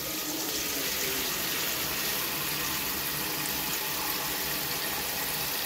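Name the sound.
water running from a tap, filling for seaweed soup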